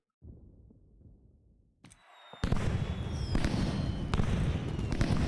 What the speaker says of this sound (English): That's a good firework noise.